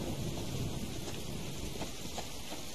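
Steady rain falls in the Subsistence survival game, a soft continuous hiss of drops with a low rumble underneath, faint and even throughout.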